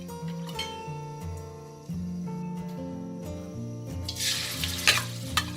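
Background music plays, then near the end a burst of hissing sizzle rises as oil heats and fries in a pan.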